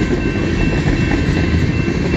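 A CN westbound mixed freight train rolls steadily past at close range, a loud, continuous rumble and clatter of wagons with no pause over the whole stretch.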